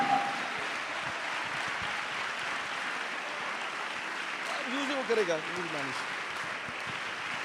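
Sustained applause from a conference hall audience fills the room, steady and dense, while a voice speaks briefly over it toward the end.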